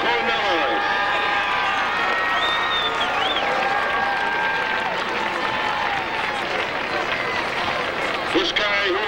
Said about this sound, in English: Let's have a nice round of applause for John Cornelis.